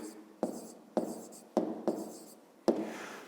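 Pen strokes on paper while working a fifth-grade geometry exercise about angles and rays, heard as a few separate scratchy marks with short pauses between them, close and fairly quiet.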